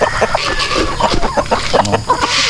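Chickens on a farm cluck and murmur in a busy, close cluster of overlapping short calls, with no clear talk.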